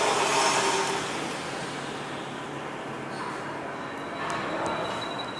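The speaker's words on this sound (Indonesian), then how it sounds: "Itu dia bunyi mendecit dari transmisi manual." A manual transmission with a fault gives off a thin, high squeal after the engine is restarted, rising faintly over a low mechanical hum toward the end.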